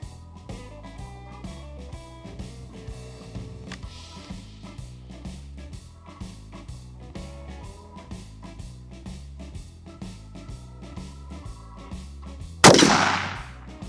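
A single sharp, loud Howa rifle gunshot fired while zeroing at 20 feet, cracking out near the end over a steady rhythmic music bed.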